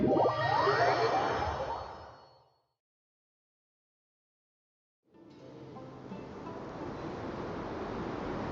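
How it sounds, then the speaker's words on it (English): Wind sweeps across the landscape in the video game Genshin Impact, a steady broadband rush that fades into total silence for a few seconds, then swells back and holds steady. "The wind rises."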